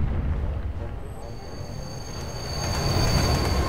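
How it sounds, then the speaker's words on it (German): Subway train arriving in the video game Lego Batman 2, a loud rumbling roar with a thin high metallic whine building as it nears, continuous and close. "Die U-Bahn kommt!"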